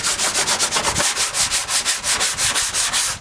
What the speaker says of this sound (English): Okay, board sanding is done.